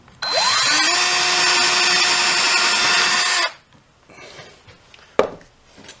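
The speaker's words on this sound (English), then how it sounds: "I'm drilling the holes also for the little screws that hold this cover over the tailpiece" A power drill bores small screw holes into a guitar neck's tailpiece area for a cover plate, a loud steady whine for about three seconds that spins up and then cuts off, followed by faint handling sounds and a sharp knock.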